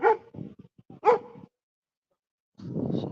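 A few dogs bark outdoors, giving two quick bursts of sharp barks close by with short gaps between, followed by a pause and then a rougher, lower bark or growl.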